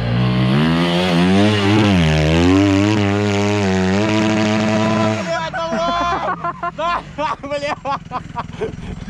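A dirt bike, one of a group including a KTM 300, Honda 450 and 250 and Suzuki 450, revs hard on a steep hill climb, its loud close engine wailing in rising and falling pitch before dropping into choppy bursts amid shouting voices.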